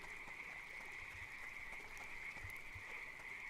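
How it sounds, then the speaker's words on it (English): Frogs croak in the Eastshade video game, a steady high chorus of calls over quiet ambience with a few low soft thumps, no voices. "Lots of frogs around here."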